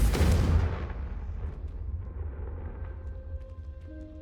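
A Confringo blasting spell explosion in Hogwarts Legacy, one loud deep boom at the start that rumbles and decays over several seconds into a low lingering tail, with no speech.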